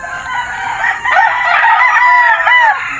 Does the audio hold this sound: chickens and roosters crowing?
yes